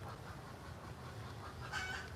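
Hen clucking after laying an egg, faint rhythmic clucks in the distance over a quiet outdoor background, with a slightly louder call near the end.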